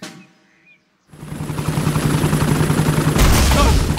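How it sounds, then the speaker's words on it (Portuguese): A cartoon helicopter from Peppa Pig, Mrs. Rabbit's rescue helicopter, comes in loud and fast after a near-silent opening second, its rotor chopping in a steady rapid beat that swells and stays close. "O helicóptero da Dona Coelha resgatou o Papai Pig."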